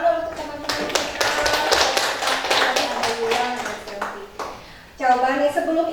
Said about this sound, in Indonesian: ya tepuk tangan dulu untuk teman-teman kita.